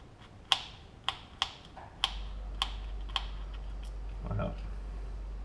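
Tiny screw on an Abu Garcia Revo SX casting reel cover being loosened with a small tool, a series of sharp metallic clicks and ticks at uneven intervals, close and crisp, over a low background hum.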